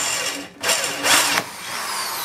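A power drill bores a pilot hole into steel during a 1969 XW Ford Falcon restoration, giving two short, loud grinding bursts over a steady background hiss.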